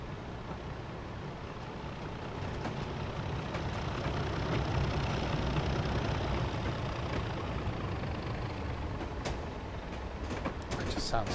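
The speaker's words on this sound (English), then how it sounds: "Yeah, because we've got diesel coming towards us now," A diesel locomotive in the railway simulator Train Sim Classic, on the Woodhead Route, rumbles closer with a steady, heavy low engine drone that swells slightly as it approaches, continuous and fairly loud throughout.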